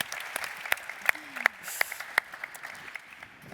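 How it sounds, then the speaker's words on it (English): Light applause from a conference audience for a panel, a small scattering of claps with a few sharper ones standing out, fairly faint and brief. "A big applause"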